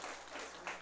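Applause from an audience at a church ordination service, steady broadband clapping filling a short moment at low level.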